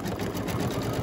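A home embroidery machine stitches a mug rug in the hoop, giving off a steady, even mechanical whir and rapid needle chatter that runs unbroken at a moderate level.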